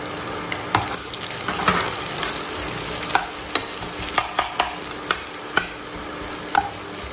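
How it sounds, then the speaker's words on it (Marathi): Onion sautéing in a pan for veg Hakka noodles gives a steady close sizzle, broken by repeated sharp clinks and scrapes of a stirring spoon at an uneven rhythm, with no talk. "इथे आपला कांदा थोडासा परतून झालेला आहे"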